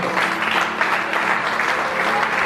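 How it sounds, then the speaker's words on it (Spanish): Church congregation applauding at a sermon, steady dense clapping filling the whole stretch at close range, with faint voices mixed underneath. "Aplaude a Dios"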